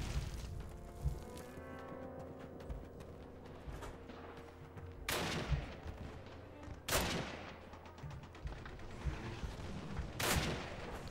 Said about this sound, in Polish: Już wiem skąd strzela.